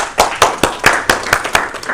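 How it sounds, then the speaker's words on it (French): Rhythmic clapping from a seminar audience in a room, about ten sharp, evenly spaced claps in unison, close and loud. "Il y a l'énergie de la salle avec vos applaudissements."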